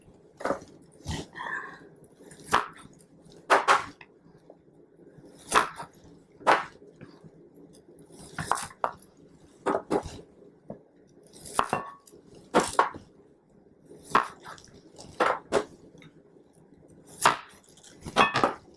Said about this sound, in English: I think I'm going to cut them in half so they're the same size as the Brussels sprouts.